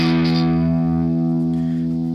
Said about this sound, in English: and an E bar chord.